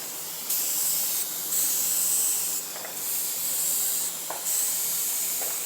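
Repeated bursts of steady hissing from a spray gun applying clear coat to a 2007 Ford Edge, each lasting about a second or two, with short pauses between passes.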